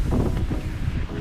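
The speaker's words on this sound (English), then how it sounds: "It's windy." Wind gusting across a small cruising boat used as a tiny home, a steady low rumble and buffeting against the microphone, continuous and close for the whole moment.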